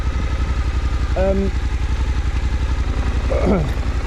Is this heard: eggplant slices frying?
no